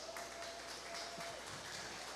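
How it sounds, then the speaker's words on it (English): Spectators at a county fair heifer show applaud the young exhibitors in the ring, a soft, even patter of clapping heard from a distance with a faint tonal hum beneath. "give all of these kids out here in the ring a round of applause"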